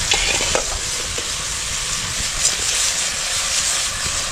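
Crabs frying in a very hot pan over an open fire outdoors at night, a steady loud sizzle with faint stirring clicks, continuous throughout and no talk.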